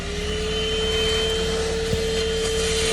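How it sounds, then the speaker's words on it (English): A handheld vacuum cleaner runs steadily at close range with a constant loud whine and hum, used to clean up small bits inside a Toyota Camry during a speaker cover replacement. "Okay, I am back with my handy dandy vacuum."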